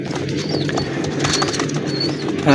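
Kamagar pigeons close by give soft cooing calls amid a rustle of flapping wings, with a brief sharper burst of wing noise at the end.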